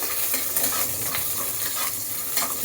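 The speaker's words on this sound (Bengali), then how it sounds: "এবার এটাকে একটুখানি ভেজে নেব" Chopped onion and a dried red chili fry in a wok, a steady dense sizzle with scraping stirs, close and continuous without talk.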